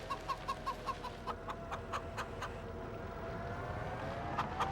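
Chickens cluck in the farming game Farming Simulator 25, a rapid run of soft, evenly spaced clucks that slows and trails off. A steady low hum sits underneath, and a few more clucks come near the end.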